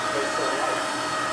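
A handheld vacuum cleaner runs steadily during interior detailing of a 2015 BMW F80 M3: a continuous, loud, airy whine and rush of suction holds at an even level throughout.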